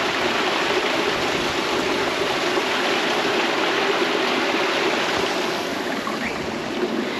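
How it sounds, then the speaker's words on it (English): Steady broadband rush of a waterfall pouring into a swimming pool near Cockermouth, constant and close with no pauses, no voices over it. "go swimming where the waterfall comes down"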